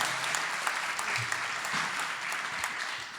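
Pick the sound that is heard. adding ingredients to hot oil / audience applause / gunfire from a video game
audience applause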